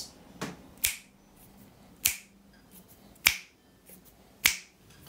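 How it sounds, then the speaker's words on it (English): Finger snaps, four sharp, distinct snaps at an even, slow pace, close and clear against a quiet background. "And the finger snaps."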